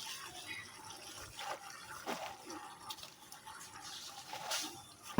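Water boils in a covered pot for pumpkin leaf greens, a soft continuous bubbling and hiss with faint irregular pops, quiet and close, with no voices.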